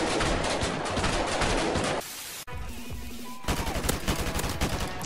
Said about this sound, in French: J'ai tiré un coup à gauche, un coup à droite.